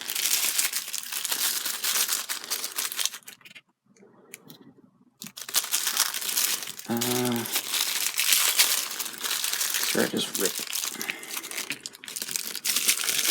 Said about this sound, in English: rip the paper bag